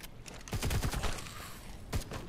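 Video game gunfire in ARK Survival Ascended striking tracks in old tunnels: a rapid burst of several shots, then a single later shot, moderately loud with no talk.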